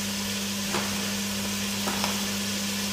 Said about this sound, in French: Mais là, on continue à bien faire rôtir.